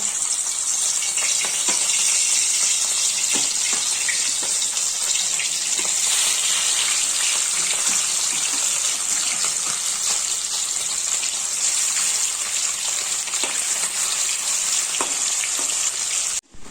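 Fish frying in hot oil, a steady loud sizzle with crackling spatter that runs continuously without pause.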